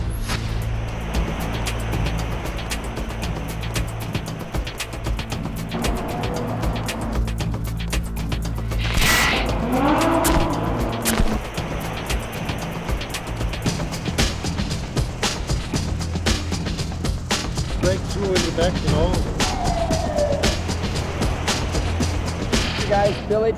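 A Lamborghini Gallardo LP 560-4 engine echoing beneath a freeway, revving and passing with loud reverberant bursts over traffic rumble, while people talk intermittently nearby.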